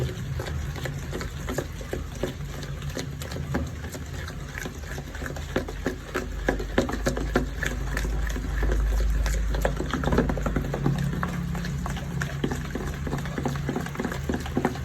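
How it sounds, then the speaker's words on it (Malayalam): Powdered sugar is stirred into sunflower oil for a Christmas plum cake batter, a steady low whirring and swishing churn in a bowl that keeps up without a break and without speech. "നന്നായിട്ട് ഇളക്കി കൊടുക്കണം"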